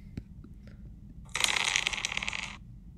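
Dice rolling from a classroom projector widget, a short bright rattling clatter lasting about a second after a few faint clicks, alone without speech.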